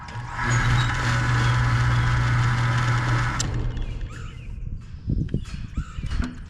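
A budget sliding gate opener motor drives the gate with a steady, close mechanical hum for about three seconds, then stops, followed by scattered clicks and light footsteps.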